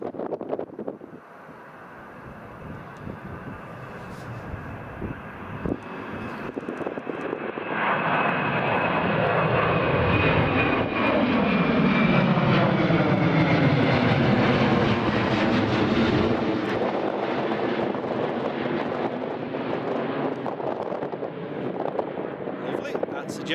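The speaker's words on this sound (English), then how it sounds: "Jet 2 airborne" A Jet2 airliner takes off from runway 25 at Newcastle Airport, its engine roar swelling from a distant whine into a loud, sustained rumble with wind buffeting the microphone, then holding steady as the aircraft climbs away.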